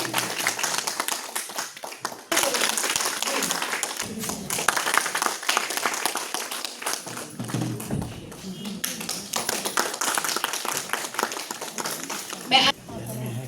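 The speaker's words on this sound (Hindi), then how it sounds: "जोरदार तालियों से इनका स्वागत करें।" Hearty applause greets guests at a BJP Mahila Morcha meeting in Kathua, sustained crowd clapping with uneven surges, while a speaker keeps talking over it through a loudspeaker.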